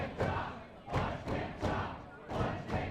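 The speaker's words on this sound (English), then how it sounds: "The crowd getting behind Terk here, Mr. Punch Kick Chop." A wrestling crowd roars in repeated surging waves, about five loud swells of cheering and shouting over three seconds, with thuds mixed in.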